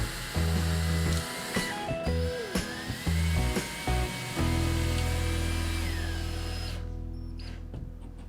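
A power screwdriver whirs in several short bursts, driving screws through an IKEA Skådis pegboard rail into wall anchors, with pauses between runs and a sustained whine before trailing off.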